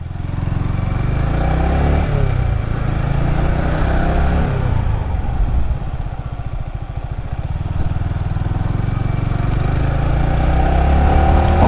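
A motorcycle on a touring ride hums with a steady, loud engine drone and heavy wind rumble up close, continuous throughout with no talk.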